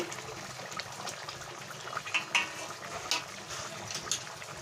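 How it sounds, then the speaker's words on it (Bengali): Pabda fish curry broth boils steadily in a pan, a constant bubbling hiss with scattered louder pops and bursts, close by and with no voices. "ঝোলটা ফুটে গেছে"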